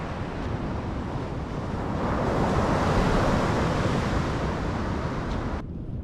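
Ocean surf rolls onto a beach on California's Central Coast, a steady broad wash of breaking waves mixed with wind rumble on the microphone, swelling slightly midway before easing off near the end, with no voices.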